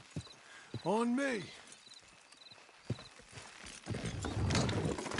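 Horse hooves clip-clop in a Western-style video game. A few sharp hoof knocks sound amid a horse's rising whinny, then a rougher run of trotting toward the end, with a man's brief speech nearby.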